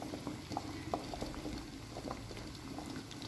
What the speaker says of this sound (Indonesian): Dan airnya tuh blutuk,